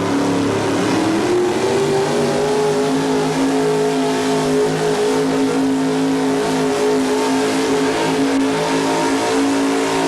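A 1987 Chevrolet drag racing car driven by Scott Johnson launches at the Oklahoma Showdown, its engine a loud, steady roar that climbs in pitch early on and then holds a sustained, close, unbroken drone.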